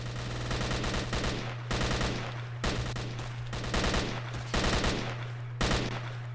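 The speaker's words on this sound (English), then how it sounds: "I don't know what these guys are shooting at." Bursts of automatic gunfire in S.T.A.L.K.E.R. Shadow of Chernobyl, the video game, come in about six rapid volleys with short gaps between them over a steady low hum, with no talking.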